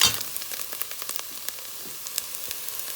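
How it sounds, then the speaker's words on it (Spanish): Chopped onion toasting in a hot pan while cooking rajas con queso, giving a steady close sizzle with scattered sharp crackles and pops throughout and no voices. "se nos está tostando la cebollita"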